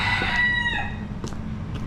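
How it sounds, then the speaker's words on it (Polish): A rooster crows loudly nearby in Key West, Florida, a long drawn-out call, followed by a few shorter distant crows over steady low background rumble. "koguty pieją"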